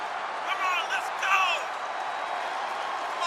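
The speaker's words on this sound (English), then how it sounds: "you can hear the cheers from the audience" Arena audience cheering during a WWE 2K22 wrestling match, a steady mid-distance crowd roar with a few louder whoops and shouts swelling briefly, then settling into a constant murmur.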